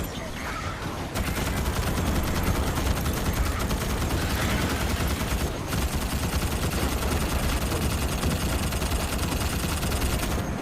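Sustained automatic fire from the Morita SAW machine gun in Starship Troopers Extermination, a dense, loud, continuous stream of rounds up close that runs almost unbroken for about ten seconds with other game noise behind it.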